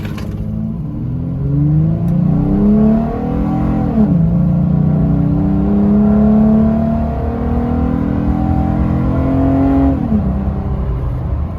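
A 2nd-generation 2012-2015 Toyota Tacoma with a Volant closed air-box intake pulls away from a dead stop. Its loud engine rises steadily through the gears, drops briefly at each shift, then climbs again, all close-up with no talk.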